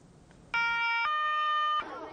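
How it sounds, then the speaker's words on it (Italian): An electronic alarm siren at an Italian primary school blares loudly in a sustained multi-tone wail that shifts pitch once midway, then cuts off abruptly, with quieter background noise before and after. "La sirena suona, ma per fortuna stavolta senza allarme"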